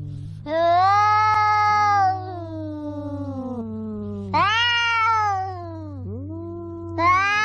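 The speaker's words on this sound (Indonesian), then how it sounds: "yang ini ada si lucu kucing" A cat meows three times, loud and close. Each call is long and drawn out with a falling, whining pitch, and a steady low hum runs underneath.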